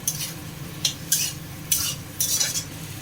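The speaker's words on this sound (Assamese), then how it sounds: "এতিয়া ইয়াতে এয়া কুটি ৰখা বেঙেনাখিনি দি দিলোঁ।" Chopped brinjal fries in spices with a soft sizzle beneath four or five sharp scraping stirs of a utensil against the pan, close up and with no talk.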